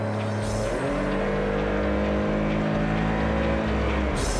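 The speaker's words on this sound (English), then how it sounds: "when you kick the automatic transmission down" Car engine in a revolutionary city car revving hard as the automatic transmission kicks down, a loud sustained droning roar with rising harmonic tone, close and continuous without talk.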